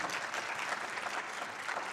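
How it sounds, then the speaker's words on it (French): Audience applause at a film talk with director Luc Dardenne, a brief, dense patter of many hands clapping at moderate volume for two seconds, with no voices. "on peut l'applaudir"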